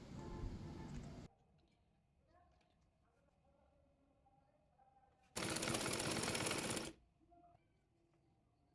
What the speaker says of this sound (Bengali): রাবারের জন্য কাপড়টি মুড়িয়ে সেলাই করে নেব।